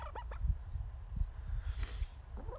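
Backyard chickens cluck and warble close by in a series of low, uneven calls, with a few faint higher chirps in the background and no talking.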